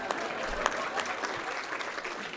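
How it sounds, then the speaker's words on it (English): Scattered audience clapping at a school leaders' celebration event in Mountain View, moderately quiet with a few sharper claps standing out over a steady patter. "Okay, clap anyway."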